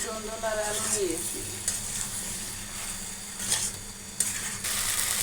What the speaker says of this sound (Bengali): এখন সবজিগুলো মশলা দিয়ে কষিয়ে নেব ভালোভাবে নাড়াচড়া করব এখানে